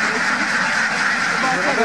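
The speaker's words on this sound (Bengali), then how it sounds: "ভাই, আপনার এখানে খামারে কত হাঁস আছে?" A dense flock of crossbred Campbell-type ducks on an egg-laying duck farm, about 350 adult birds, keeps up a steady, loud chorus of overlapping quacks that fills the whole moment, with faint voices in the background.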